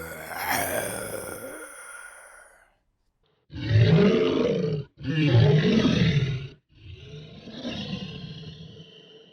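Monstrous gargling beast creature effect made with Dehumaniser, a snarling roar followed by three loud, throaty growling bursts with brief silences between, close and alone.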